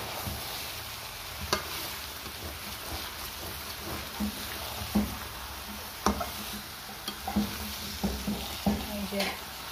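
Meat frying in a small amount of oil while being stirred for kosha: a steady soft sizzle with intermittent scraping and clacking of a spoon against the pan, close and moderately quiet.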